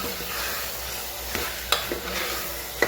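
Masala sizzling in a pan as it is stirred, a steady frying hiss broken by a few scraping clicks of the spoon against the pan, close and alone.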